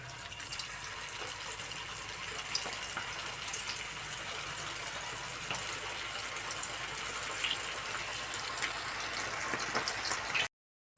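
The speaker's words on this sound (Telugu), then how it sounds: "ఇలా కాల్చుకోవాలండి గోల్డెన్ బ్రౌన్ వచ్చే వరకు, లేకపోతే లోపల పిండి లాగా ఉంటుంది" Cabbage manchurian balls deep-fry in hot oil with a dense, steady, close hiss and fine crackle, continuous until it cuts off abruptly at the end, with no speech.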